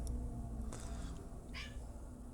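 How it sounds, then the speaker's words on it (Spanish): A cat gives a couple of brief, faint vocal sounds over a steady low background hum, one near the start of the clip and another toward the end. "Si oyes ruidos por detrás, es mi gato que está vuelto loco."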